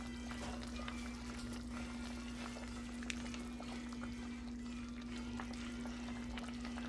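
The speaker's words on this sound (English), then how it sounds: "Now it's at the point where it's giving that boil." Greens in a pot on the stove at a rolling boil, giving a steady close bubbling and hiss with a constant hum underneath and a few small pops.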